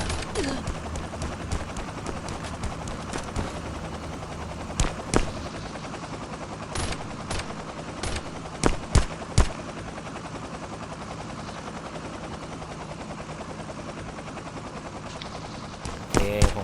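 AK rifle fire in the survival shooter Last Island of Survival, loud sharp shots cracking out singly and in short bursts over a steady droning background hum, with long gaps between volleys.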